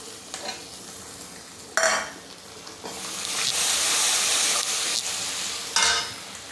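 Whole spices and ginger sizzle and fry in a pan for a vegetable dum biryani, with steady hissing and a few louder bursts as the mixture is stirred, close and with no talk.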